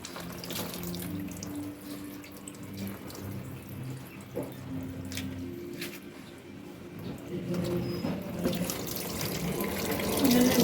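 Tap water runs steadily into a bathtub during a French bulldog's bath, a continuous splashing flow that swells louder toward the end, with voices heard faintly at times.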